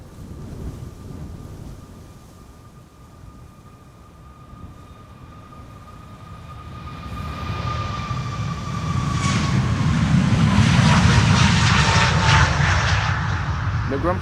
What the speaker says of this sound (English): TUI Dreamliner has arrived